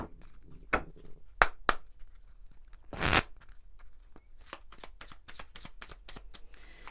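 Oracle cards being shuffled and drawn in a quiet room: a run of sharp riffling snaps and papery slides, with one longer loud shuffle burst in the middle followed by quicker soft card flicks, no talking.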